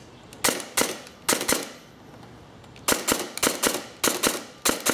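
An airsoft SOPMOD Block II rifle fires single semi-automatic shots, sharp close snaps arriving in short irregular bursts of two to four with brief pauses between, loud and clear with no talking.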